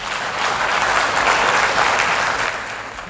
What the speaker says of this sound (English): And I want you to clap for NIA.